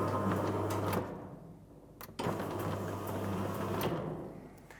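A motor-driven RollMatic roller door closes about 300 mm, heard as a steady mechanical hum and rattle that pauses briefly, then resumes with a soft clunk before running on.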